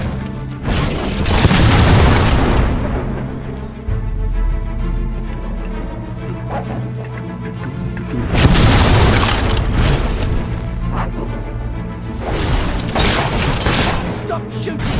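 Loud, sustained gunfire and booming explosions from the video game Fable rumble continuously, with heavy bursts swelling around the middle and end amid dense battle noise.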